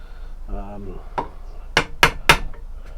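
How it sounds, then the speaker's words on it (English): A hammer taps a wooden stick to mark it while making a self-defence walking stick: one softer knock, then three sharp, close, evenly spaced strikes, with a brief hum beforehand. "I think I'm going to tap this with a hammer so it'll mark the wood, hopefully."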